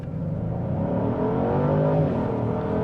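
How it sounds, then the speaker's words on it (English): A 2024 Genesis GV70 3.5T SUV accelerates at full throttle from a stop, its engine droning loudly from inside the cabin with a steadily rising pitch as it pulls hard. "We'll just floor it from a stop."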